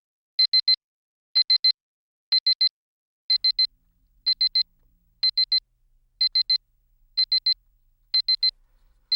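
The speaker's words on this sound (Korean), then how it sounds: "새벽 6시 기상을 알리는 알람 소리와 함께 오늘도 팍팍한 하루가 시작된다." An alarm clock rings in rapid triple beeps, bursts repeating about once a second, high-pitched and loud over near silence.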